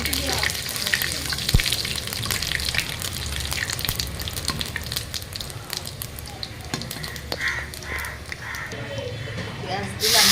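Onion frying in hot oil that already has a little dried chili in it, a steady broadband sizzle and crackle running throughout, with people talking over it.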